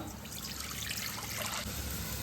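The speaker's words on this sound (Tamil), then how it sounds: "ஒரு பாத்திரத்துல தேவையான அளவு தண்ணி சேர்த்துக்கலாம்." Water poured from a vessel into a cooking pot, a steady close trickling splash that runs on without a break and with no voices.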